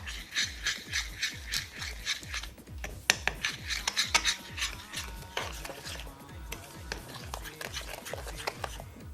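Eggs and sugar are beaten together in a bowl for an apple cake, giving fast, rhythmic scraping strokes against the bowl that keep a steady pace throughout, close and moderately loud.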